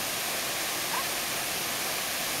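Timangguyob Falls pours as a steady, even broadband rush of falling water that stays at the same level throughout, with no other clear sound standing out.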